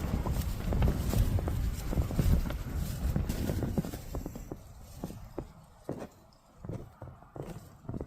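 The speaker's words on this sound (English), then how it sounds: "Sounds like something's outside. Like walking about." Footsteps crunch and thud around a tent at night in the wind, a run of irregular close steps that thins out and grows sparser toward the end.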